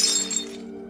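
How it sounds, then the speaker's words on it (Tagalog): Glass windows in a town plaza shatter in one bright, crashing burst that rings out briefly and fades, set over a low sustained drone. "Humiyaw at nabasag ang lahat ng salamin sa plaza."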